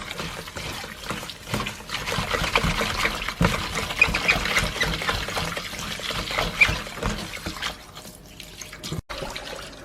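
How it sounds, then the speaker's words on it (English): Water runs from a tap into a sink to cover vegetables for washing, a steady close splashing trickle that continues throughout. "So we're going to cover them with water."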